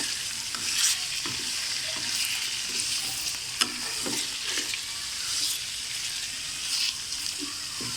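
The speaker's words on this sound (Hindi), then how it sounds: "5 मिनट तक मैं इसको फ्राई करती हूँ" Chicken karahi fries in a pan with a continuous sizzle, and scattered scraping and stirring knocks rise above the crackling hiss; no one speaks.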